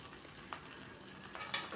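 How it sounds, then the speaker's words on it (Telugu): Gongura leaves frying in hot oil with a tempering, a soft continuous sizzle with a few stirring scrapes and clinks of the spatula against the pan, faint and close, with no talking. "ఈ గోంగూర శుభ్రంగా ఇందులో వేగాలి"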